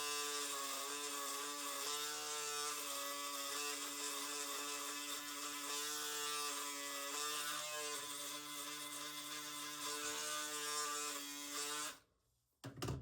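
A JRL Onyx electric shaver with a spinning blade hums as a steady, close, tonal buzz with no talking for about twelve seconds, then abruptly switches off.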